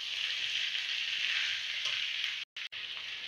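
Potatoes frying with onions in a pan on medium-high heat, a loud, steady, close hiss of oil broken only by two brief silent gaps near the end.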